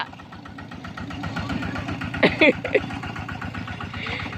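A two-wheel walking tractor engine chugs close by with a steady, rapid thumping idle, while people talk and shout over it.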